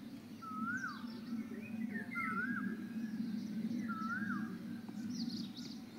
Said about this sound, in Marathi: तर वेगवेगळ्या पक्ष्यांचा आवाज येतोय